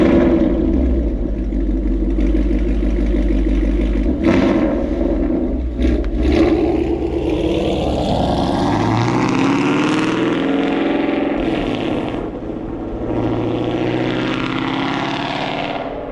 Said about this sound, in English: It's just absolutely insane how loud this car is,